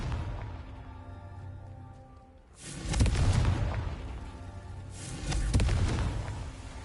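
A Confringo fire-blast spell from the Hogwarts Legacy video game goes off in two loud, booming bursts about two seconds apart, each swelling and then fading over a steady low game rumble.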